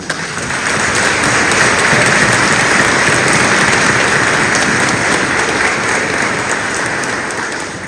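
A church congregation at a Purépecha Mass for the feast of Señor de la Exaltación applauds Father Rubén, a loud, dense wash of clapping that holds steady for several seconds before easing slightly at the end.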